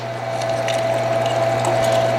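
An electric meat grinder runs steadily, grinding lean pork for sausage, with a continuous motor hum and a faint churning, mechanical texture throughout and no talk.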